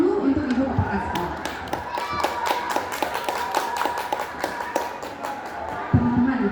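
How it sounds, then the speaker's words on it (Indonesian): A school audience applauds the principal at a gathering, a steady patter of many hands clapping under a murmur of crowd noise, continuing for several seconds and swelling briefly near the end. "kita beri tepuk tangan dulu untuk Ibu Kepala Sekolah"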